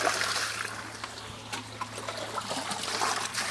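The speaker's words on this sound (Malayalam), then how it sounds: "ഈ മത്സ്യങ്ങളുടെ വിസർജനം അടങ്ങിയ ഈ വെള്ളം മാത്രമാണ് ഇതിന് ഒഴിച്ചു കൊടുക്കുന്നത്" Water carrying fish waste trickles and splashes softly as it is poured onto seedlings in a small home garden beside a fish tank, a faint continuous dribble with a low background hum.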